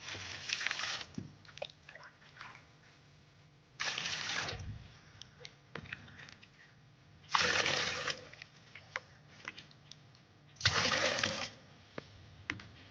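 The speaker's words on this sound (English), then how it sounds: "we're going to add water to it." Water pours onto red clay in several short splashing bursts, separated by quieter moments of wet handling and small knocks, close to the microphone.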